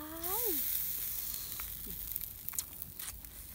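Pork sizzles on a grill with a soft, steady hiss, close and quiet, with a few faint pops and scrapes; a brief voice-like tone rises at the start.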